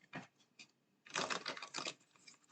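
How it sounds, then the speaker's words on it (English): An old, thick, waxy tarot deck being shuffled, giving quiet clustered riffling and tapping bursts, one short burst followed by a longer busier one, close and with no talking. "That's a good shuffle."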